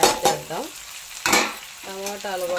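Tomatoes hitting a hot frying pan during tangy raw mango curry preparation, sizzling in short close hisses and stirring bursts with brief pauses between.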